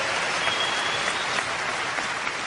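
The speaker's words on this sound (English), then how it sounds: "You clap, you're awake." An arena audience at Wembley claps in dense, steady applause that holds evenly from start to finish, with no voice breaking through.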